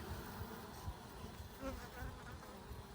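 A low, steady drone of many honey bees buzzing together, continuous and fairly close, with no talking.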